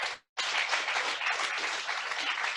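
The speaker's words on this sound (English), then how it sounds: "Also a clap for him." Audience applause at a closing session of an innovation forum on locally led crisis and displacement response, honoring the moderator: dense, steady clapping from a crowd that starts after a brief pause and carries on evenly without letting up.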